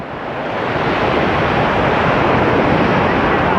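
Ocean waves at high tide wash up to a seawall and its steps at Ban Chang, Rayong, Thailand. The surf is a loud, continuous roar, close by and mixed with wind noise.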